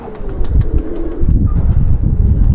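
A market-bought pigeon coos in low, throaty bursts at close range, with soft rustling and wing movement mixed in, loud and continuous, with no people talking.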